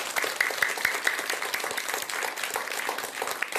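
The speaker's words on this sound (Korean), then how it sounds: "박수 한번 드리세요." Audience applause after a Buddhist dharma talk, a dense steady wash of many hands clapping at once, fairly close and even throughout with no voices over it.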